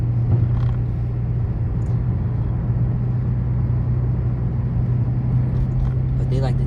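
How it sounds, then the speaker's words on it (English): A car engine idles and rumbles steadily on a city drive through Boston, a low continuous hum with occasional creaks, while someone speaks over it. "You hear that motor? That shit sounds sexy."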